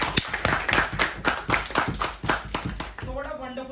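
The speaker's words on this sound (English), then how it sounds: "let's first of all give a huge round of applause for Toastmaster Harshul" Hands clapping in rapid irregular rhythm from a small audience at a Toastmasters meeting, applauding a speaker after a speech, fairly close and loud, with a voice starting at the end.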